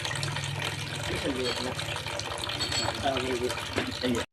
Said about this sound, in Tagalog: Pupunuin yung tubig, ibubuhos, itratry kung diretso na po yung daloy ng tubig